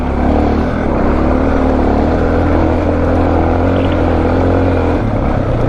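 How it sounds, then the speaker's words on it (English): Suzuki DR650 dual sport motorcycle revving hard in first gear up a steep mountain climb in West Virginia, a loud, steady, strained engine drone close up with no break. "I have to rev out first gear because second would slip out"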